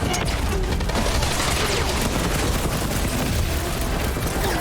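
Rapid gunfire and blasts from Rocket attacking an enemy in the Guardians of the Galaxy video game, a dense, loud, continuous barrage of shots and booms with no pauses.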